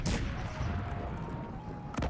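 Cannon and artillery fire in the strategy game Cossacks 3, with multi-barrel cannons shooting during multiplayer battle: a loud blast opens the short stretch and another booms near the end, a dense rumbling battle din filling the gap between them.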